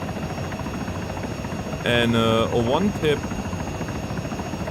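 A helicopter in the ArmA 3 game hovers with a steady, droning rotor hum that runs throughout, while someone speaks briefly over it.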